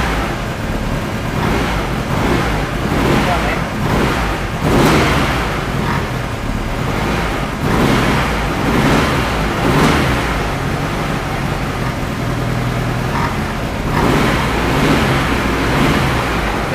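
A Honda Civic EG with a swapped B20 VTEC engine runs at its first start, revving unevenly in repeated loud surges over a steady, rough idle that stays close and continuous throughout.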